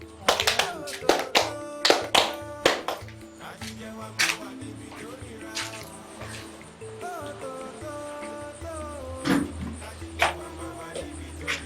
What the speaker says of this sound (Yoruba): kí gbogbo yín pàtẹ́wọ́ fàbínú yóò dùn sí ni